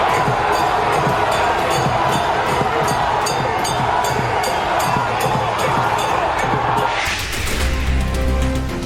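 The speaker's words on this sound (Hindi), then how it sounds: "चारों तरफ मोदी मोदी के नारों का शोर था।" A large stadium crowd cheers and chants in unison at a rally for Modi with the Australian prime minister present, a loud, dense, rhythmic roar that swells continuously, then shifts into a heavier thump near the end.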